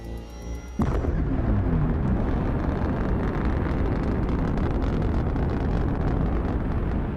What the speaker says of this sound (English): The engine is starting up.